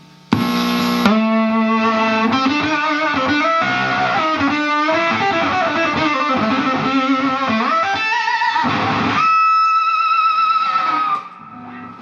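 An electric guitar plays a melodic line through an analog octave pedal modeled on the Tone Machine, the doubled pitch thick and sustained, loud and steady, ending on a long held note.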